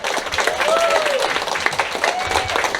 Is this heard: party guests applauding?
yes